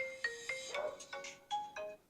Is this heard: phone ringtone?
yes